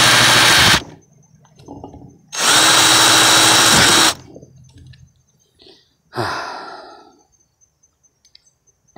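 A power drill bores into a homemade lamp part in two long high-pitched whirring runs, followed by a shorter trailing burst, each loud and close with quiet gaps between.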